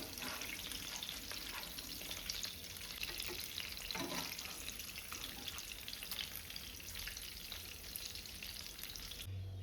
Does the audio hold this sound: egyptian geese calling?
no